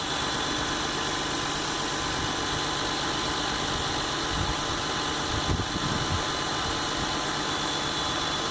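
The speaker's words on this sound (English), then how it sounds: "Finally got it running. The GS300 now runs." A 1998 Lexus GS300 engine runs at a steady idle, a constant broadband hum and whir with a few faint low thumps, heard alone without voices.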